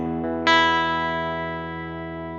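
Electric guitar chord played through a JHS amp plugin with reverb: a sustained distorted chord rings out, then a fresh strum cuts in brightly and decays slowly in a reverberant tail, loud and alone.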